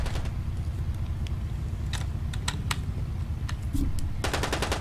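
Rapid bursts of video-game gunfire from a shooter match crackle repeatedly over a steady low background rumble, with a denser burst of shots near the end.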